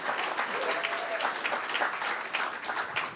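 A live comedy show audience in Los Angeles breaks into steady, lively applause, dense clapping with a few whoops, sustained at an even level for the whole stretch.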